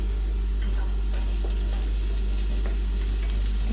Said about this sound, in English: And then to that we're gonna add our onion, white onions.